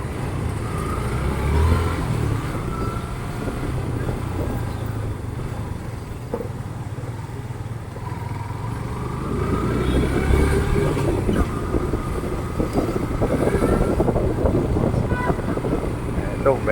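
A vehicle travelling along uncongested Manila roads, a steady engine and road rumble with wind buffeting the microphone throughout, growing slightly louder toward the end.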